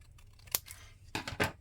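Scissors snip a small paper tag for a book or planner, a few quick crisp cuts and rustles close up and quiet, with no talking.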